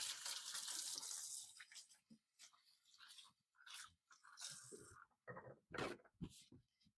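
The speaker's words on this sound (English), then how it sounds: "let me go wash my hands" Hands being washed under a running kitchen tap during home cooking of bacon mushroom chicken mac and cheese, with a steady close rush of water at first, then broken splashing and rubbing sounds in uneven bursts.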